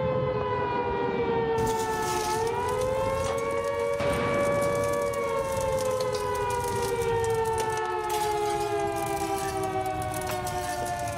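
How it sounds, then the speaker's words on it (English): A wailing air raid siren rises and falls steadily for several seconds, loud and sustained, with a second siren tone layered underneath. "No, no, not them bloody sirens again."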